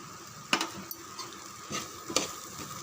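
Chicken and ground spice powder stirred in a pan for a Tamil chicken kuzhambu, with a spoon scraping and clinking in a few short bursts over a soft, steady sizzle.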